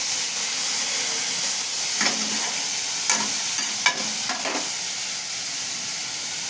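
Onions fry in mustard oil in a pan, a loud steady sizzling hiss with several scraping stirs, close and continuous.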